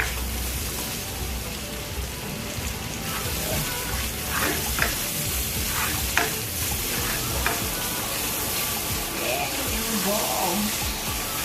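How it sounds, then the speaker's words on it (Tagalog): Onions sauté in a pan for jackfruit in coconut milk, a dense continuous sizzle with crackling and steady stirring scrapes throughout, close and loud, with light talk faintly underneath. "Tutuin lang natin ng konti yung sibuyas."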